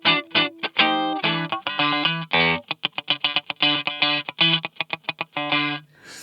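An electric guitar runs through a Boss EQ-200 graphic equalizer into a distorted amp, playing a series of punchy, choppy chords and short stabs with gaps between hits, loud and up close with no talking.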